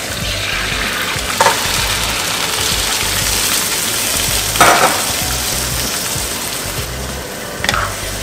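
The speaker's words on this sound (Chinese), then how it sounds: "来翻炒一下" Chicken wings stir-fried in a hot pan for braised wings, a steady loud sizzle running throughout, broken by a few brief scraping stirs.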